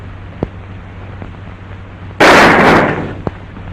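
A single loud gunshot in an old black-and-white western film scene, a sharp blast with a brief tail standing out against quiet background hiss and faint clicks, with no speech.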